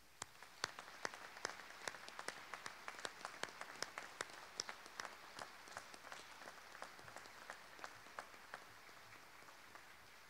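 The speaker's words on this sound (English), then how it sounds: "Let's give the entire Blue Angels team another round of applause." An outdoor crowd at a Blue Angels change of command ceremony gives another round of applause, a sparse, fairly faint spread of distinct individual claps rather than a dense roar, continuing steadily for about ten seconds.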